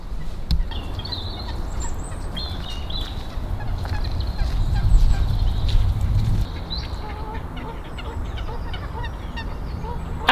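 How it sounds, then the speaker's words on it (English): A noisy crowd of waterfowl at Wollaton Hall lake, with geese honking and fowl gobbling and squawking continuously over a busy outdoor background, several calls overlapping and some close by. "As you can probably hear, it's very, very noisy, but a great place for bird watching."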